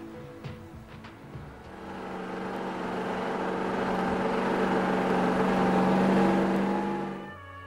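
A GAZ truck engine pulls away after an unbroken 11-kilometre mountain climb on a snowy road, a droning engine tone that rises and swells steadily to a peak, then cuts off at the end, with no talk over it.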